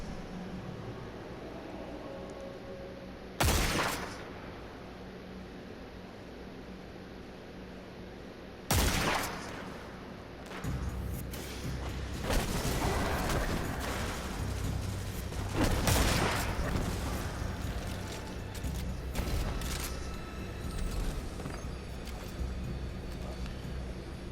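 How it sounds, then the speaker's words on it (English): Dead Man's Tale rifle in a video game firing sharp single shots spaced several seconds apart, each a loud broadband crack, over a steady hissing game ambience with some busier action and effects later. "this feels like a hybrid between a scout rifle and a sniper rifle"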